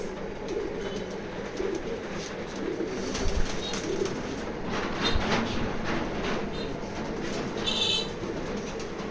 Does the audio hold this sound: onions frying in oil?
no